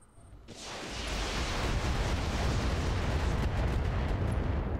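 Battle mech weapons fire and explosions in the Roguetech game, a dense sustained roar of blasts with sharp bursts that swells in after a brief quiet start and stays loud throughout.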